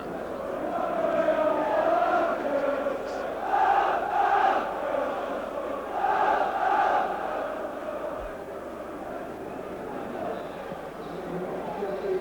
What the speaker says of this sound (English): So the crowd now eagerly awaiting the start of the second half